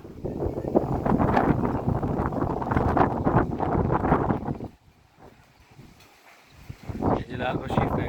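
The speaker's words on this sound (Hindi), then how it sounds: "अभी यहाँ पे हवा बहुत तेज़ है और हवा में हल्की हल्की बारिश भी है" Strong wind buffets the microphone on a rooftop in a village as light rain falls, a loud rushing roar that drops away briefly before gusting back, with someone speaking over it.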